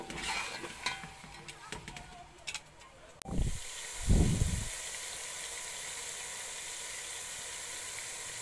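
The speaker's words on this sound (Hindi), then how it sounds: "टू टी स्पून लाल मिर्च पिसी हुई, इन मसालों को भून लेंगे थोड़ी देर।" Ground red chili powder and spices frying in a hot pan, with clatter and stirring at first, then two loud sizzling bursts settling into a steady background hiss.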